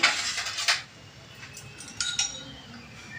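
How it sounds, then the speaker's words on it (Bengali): Ground roasted spices being mixed into a dal puri filling, heard as a spoon clinking and scraping against a metal bowl in a few quick bursts and then softer, sparse taps. "ওই ভাজা মশলাটা দিয়ে দেব তাই একটু ভালো করে মিশিয়ে"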